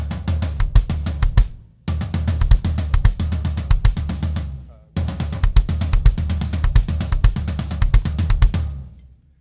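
Drum kit phrase of alternating right and left hand strokes with kick drum, played in three bursts of rapid sticking with brief gaps between, close and loud, no talking over it.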